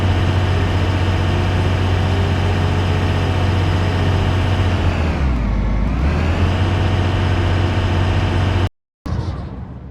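A steady, loud engine drone from Farming Simulator 25 holds at high revs with a brief dip in pitch midway, then cuts out abruptly near the end before resuming.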